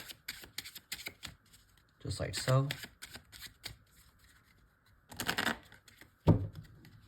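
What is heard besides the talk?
deck of playing cards being shuffled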